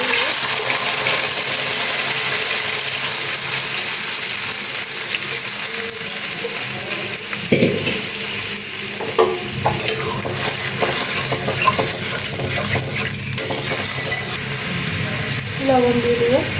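Boiled lentils hit spiced hot oil in a home kitchen pan, producing a steady, loud sizzle throughout with intermittent scraping and clinking of a stirring spoon.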